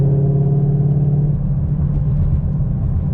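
A Ford Mustang S550 with a Borla ATAK exhaust and headers, set to track mode, gives a loud, steady low rumble close by with a slight dip and swell, and no voices.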